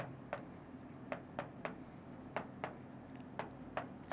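A pen or pencil writes a math equation by hand on paper, giving soft scratchy strokes with regular short taps as characters form, quiet and close.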